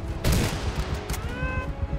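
Rapid bursts of automatic gunfire in Call of Duty: Black Ops Cold War, a dense fusillade of close, loud shots clustered at the start and again near the middle, with a ringing tonal tail afterward.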